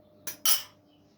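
Two quick metallic scrapes of a utensil stirring kunafa with ghee and sugar in a metal pan, close and fairly loud, then quiet.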